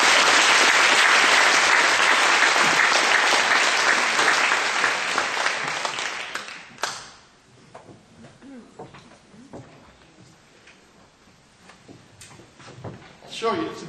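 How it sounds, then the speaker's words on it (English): Loud, dense audience applause fills the first half, then tapers off around the midpoint as a voice resumes talking over a quieter room. "can we just have a round of applause for Dean, please?"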